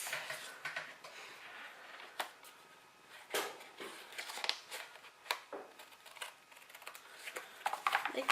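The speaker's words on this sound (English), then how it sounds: "And I'll trim off the excess." Scissors trim excess paper off a handmade Valentine's card, giving a series of quiet, uneven snips and paper rustles close by, with no talking.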